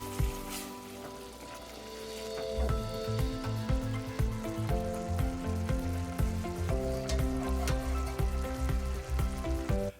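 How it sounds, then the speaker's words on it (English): Dry white wine simmering in a pan of risotto, a steady close sizzle and bubbling crackle that builds after the first two seconds and holds evenly, with a faint tonal hum beneath. "Add about 1/2 cup of dry white wine and let this simmer for about 2 minutes until mostly reduced."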